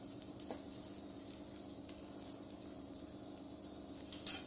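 A Kerala okra curry (vendakka puli) with turmeric, chilli powder and asafoetida stirred in a pan: a faint, steady sizzle with soft scraping and a small clink at the end.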